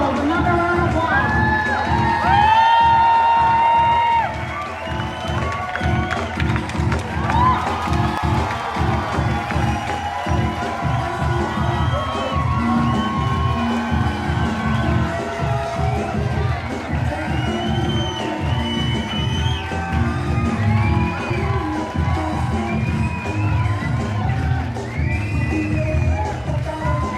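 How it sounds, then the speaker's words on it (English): A large audience at a fashion show cheers, whoops and shouts continuously, loud and dense, with excited voices mixed into the roar. "Tomorrow, another round of applause."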